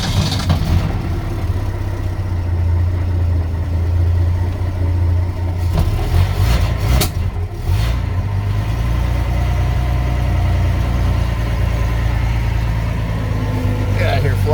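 A 1953 Ford 4x4's engine turns over and settles into a steady low idle, a continuous rumble with a brief rough burst partway through, and a person talks over it.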